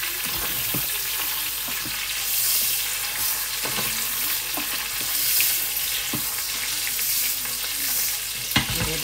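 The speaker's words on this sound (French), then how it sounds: "On va laisser cuire tranquille. Je vais retourner le rôti sans me cramer." A large roast sizzles in a frying pan with a steady, dense crackle and occasional sharper pops, close and continuous, with no talking.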